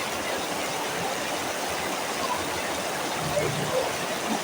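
Heavy rain pours in a steady, loud, unbroken roar that holds evenly from start to finish.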